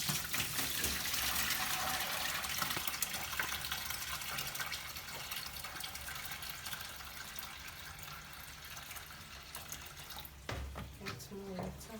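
Water gushes steadily from a tap into a bowl of beans being washed and scrubbed, a continuous splashing rush that shifts slightly near the end with some clinks.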